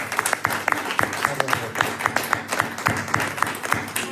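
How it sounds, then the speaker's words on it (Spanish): An audience at an outdoor poetry reading applauds, a close, lively mix of many hands with distinct sharp claps standing out throughout four seconds. "nos vamos a dar un aplauso entre todos"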